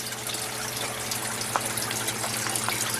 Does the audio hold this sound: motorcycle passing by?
no